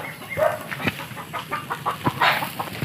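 Chickens on a farmyard in the Philippines cluck in short, scattered bursts, fairly near but soft, with ducks kept nearby and faint background noise.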